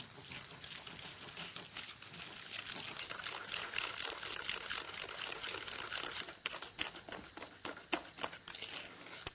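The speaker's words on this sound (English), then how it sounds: "Now it's time to whisk the egg yolks and the sugar together." Egg yolks and sugar are whisked together in a bowl for a bread and butter pudding custard, a quick continuous wet swishing and clicking that slows into separate strokes near the end.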